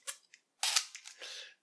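Shutter release on a 1980s Konica C35 AF2 plastic point-and-shoot film camera: a few quiet, sharp mechanical clicks and a brief whirring burst, close up and isolated.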